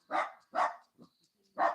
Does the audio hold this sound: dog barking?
yes